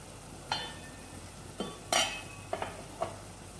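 A spice masala for Hyderabadi khatti dal tadka is stirred and roasted in oil in a pan. A handful of sharp spoon scrapes and clinks sound against the metal over a faint, low sizzle, with quiet pauses between strokes.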